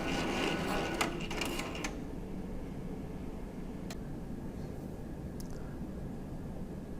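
Card printer feeding a cleaning card through its length and up into the vertical path, a steady low mechanical whir with a few brief clicks and rattles near the start, close and continuous.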